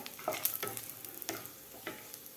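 Dry fruits sautéed in ghee in a kadai for moong dal sheera, soft sizzling with four or five rhythmic stirring scrapes of a spoon, fairly quiet and close, no talking.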